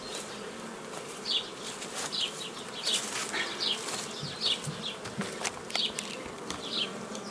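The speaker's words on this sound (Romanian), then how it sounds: "o albinuță care tocmai acum iese" Honeybees buzz inside a hive frame as a young bee emerges from its capped brood cell, a close, continuous insect drone with brief louder wingbeat bursts and no talk.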